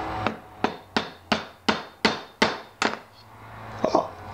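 A hammer drives a junky screwdriver into a turned wooden bookend to split it: about eight sharp, evenly spaced, loud strikes, then a pause and one softer knock.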